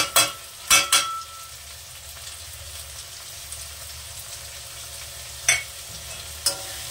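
Masala with tomato and ground coriander-cumin paste cooking in a pan for palak paneer, a soft background sizzle broken by several sharp scraping stirs of the spoon, near and fairly quiet.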